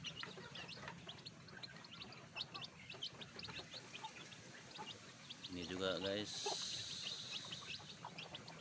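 Bangkok crossbred chickens clucking and chirping in a coop, scattered short calls throughout at low volume, with someone talking nearby and a brief rattling noise in the middle.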